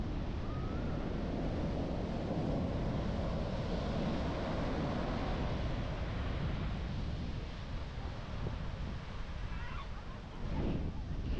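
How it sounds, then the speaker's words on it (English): Large ocean waves roll in and wash up on an Icelandic shore, a steady loud surf roar with wind buffeting the microphone throughout, swelling and easing slightly near the end. "there were some pretty large waves rolling in, and they almost caught me on more than one occasion"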